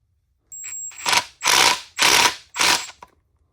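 A ratchet wrench tightens the bottom bolt of a Honda CRF110 motorcycle fork, producing four quick clicking bursts in a steady rhythm, close and clear against near silence.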